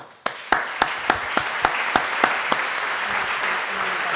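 Conference audience applause opening with a run of loud, evenly spaced rhythmic claps that settle into a thicker, continuous round of clapping from the crowd.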